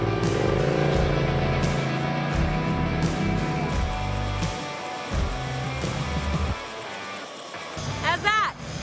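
A Finke Desert Race car pulling away on a test drive after a drive shaft repair, checking the diff and gearbox, its engine droning and revving under nearby talk before fading out.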